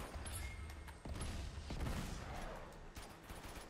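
Gunfire rattles in an Uncharted 2: Among Thieves multiplayer match, with a quick volley of shots and sharp cracks mixed with clattering game action at a fairly low level.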